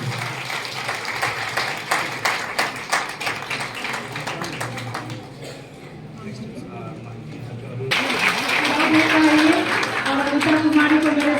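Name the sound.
audience applause at an event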